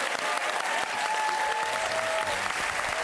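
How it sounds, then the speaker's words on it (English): Studio audience applause for guests on a Christmas TV show, a loud, even wash of clapping from a large crowd with little else. "Can we also have a huge round of applause for all the guests that dropped in to help us celebrate Christmas this year?"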